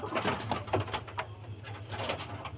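Pigeons at a pigeon sale in Bamangachhi, North Barasat, including a red-headed Gerebaz, coo in a low steady rumble that runs unbroken and fairly close throughout, with faint background bustle.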